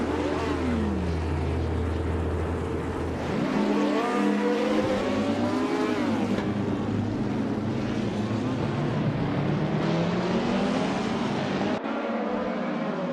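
Race cars screaming around a track in a racing video game, several engines rising and falling in pitch as they shift gears and pass, loud and continuous throughout.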